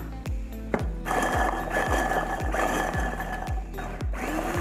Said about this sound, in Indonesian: next saya mau cobain garlic peelernya atau pengupas bawang putih.